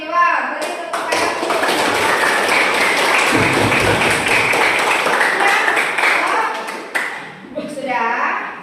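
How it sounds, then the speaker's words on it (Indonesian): A school class applauding in a classroom, a burst of clapping from students that lasts several seconds at close range, then fades, with voices heard at the start and the end. "Beri tepuk tangan."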